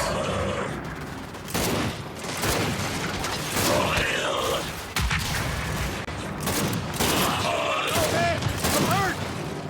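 Gunfire in Gears of War 5, bursts of rapid shots and heavy weapon clatter at close range mixed with mechanical clanks, with a voice talking at times.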